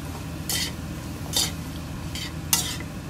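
Potatoes and browned ginger stirred in a frying pan for a Korean-style curry: four scraping swishes of the utensil across the pan, roughly a second apart, over a steady low sizzle.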